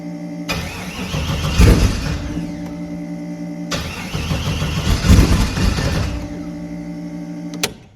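A turbocharged LS-swapped G-body Chevrolet Malibu cranks on its starter without firing, out of fuel; two long loud whirring cranking bursts of about three seconds each, separated by a short pause, with no voices.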